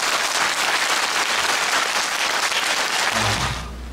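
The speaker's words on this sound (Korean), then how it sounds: "큰 박수로 고한우 씨 자리 모시겠습니다." An audience applauds to welcome a ballad singer onto the stage, a dense, steady wash of clapping that carries on for about three seconds and then quickly fades out.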